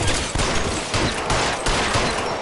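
A video game gunfight during a murder investigation brings a rapid run of loud, close gunshots in uneven bursts over a couple of seconds, with no voices heard.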